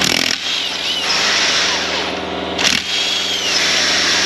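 A small 22 kg-torque power tool runs steadily against a stuck bolt on the engine of a Nissan Livina with 240,000 km and an engine noise, a close, loud continuous whine that dips briefly midway and resumes.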